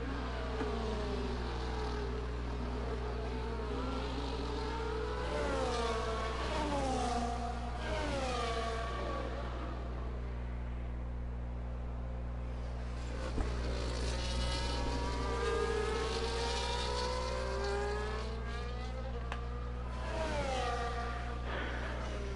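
Race cars in a racing video game on a Portugal circuit, engine tones rising and falling in repeated sweeps as cars accelerate and shift, over a constant low hum, moderately quiet and continuous.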